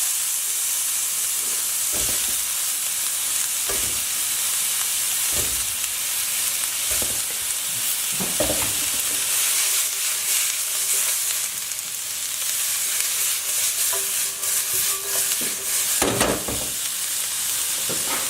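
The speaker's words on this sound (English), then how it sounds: "add your tofu into the pan" Tofu frying in a pan for salt and pepper tofu, a steady loud sizzle and hiss running throughout with occasional stirring clatter and pops rising above the continuous frying noise.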